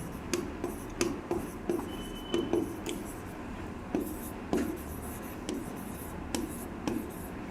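Chalk or marker writes steadily on a classroom board during a physics lesson on Coulomb's law, giving rhythmic scratchy strokes and taps that repeat at an even pace, with a faint voice underneath.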